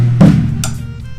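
Tom drums tuned with the top head at B and the bottom head a perfect fourth higher at E. A close, loud drum strike gives a resonant, pitched boom that decays over about a second, followed by a faint second hit.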